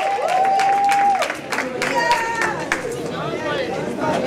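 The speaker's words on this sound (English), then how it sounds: "A round of applause for the most powerful cheerleader in" Audience applause at the Grand Gedeh Association convention in Philadelphia, a steady wash of clapping mixed with crowd chatter and a few whoops, sustained throughout at moderate loudness.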